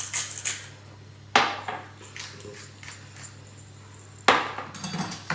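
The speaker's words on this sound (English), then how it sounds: "So finish mashing" Potatoes being mashed in a pan, the masher knocking against the pot in a few sharp clanks with softer scraping and squashing in between, close by and without talk.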